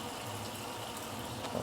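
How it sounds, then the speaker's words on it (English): Dark soy sauce is poured into a bean sauce meant for fried snapper, making a soft, continuous gushing trickle at close range with a faint clink near the end. "I would like to give it some darker color, so dark soy sauce."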